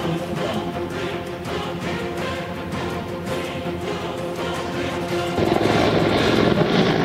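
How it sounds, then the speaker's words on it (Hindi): An Apache attack helicopter flies with a loud, continuous rotor thump and engine roar that swells louder toward the end, with no voices. "अब अपाचे हेलीकॉप्टर को जानिए।"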